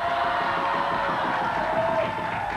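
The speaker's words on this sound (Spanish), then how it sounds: "Un aplauso para estos chiquititos." A crowd at a 1997 televised event in honor of young children cheers and whoops continuously, a loud, sustained wash of voices with no break.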